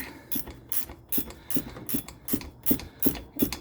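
A ratchet wrench clicks in steady, evenly spaced bursts while tightening the front shock on a 1996 Ford Ranger, about ten quick strokes heard up close with no talking.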